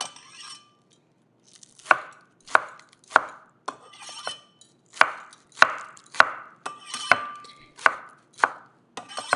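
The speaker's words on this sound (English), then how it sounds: "the other half, we're just going to thinly slice" Knife thinly slicing halved spring onions on a cutting board, about a dozen crisp, evenly paced chops heard up close with brief pauses between them and no talking.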